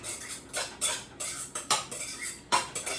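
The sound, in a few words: stirring seasoning into a bowl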